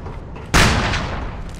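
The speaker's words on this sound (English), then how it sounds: "Already lobbing nades." A grenade blast in the shooter SOCOM Confrontation: one sudden loud explosion that bursts from a quiet background, then a long rumbling decay that stays heavy to the end.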